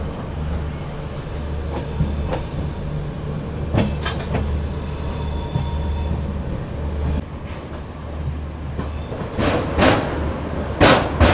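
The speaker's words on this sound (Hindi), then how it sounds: "लेकिन आज तो लेट चल रही है, तो देखो अभी दोपहर में 1:25 पे अपनी ट्रेन यहाँ पर पहुँची हुई है।" The Amritsar Swarn Shatabdi Express, running late, comes into a station with a steady low rumble and rhythmic wheel clacks. Sharp squeals and metallic clatter bursts grow louder toward the end.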